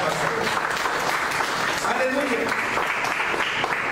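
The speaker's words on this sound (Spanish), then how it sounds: "Denle una ofrenda de palmas" Congregation clapping in a church service, a dense steady wash of applause lasting throughout, with a voice shouting a praise exclamation over it.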